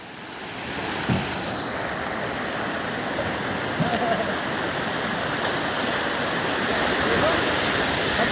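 Indian Ocean surf at Weligama, Sri Lanka, heard while wading in from the shore: a dense, steady wash of breaking waves close by, with a brief splash near the start and faint voices in the background.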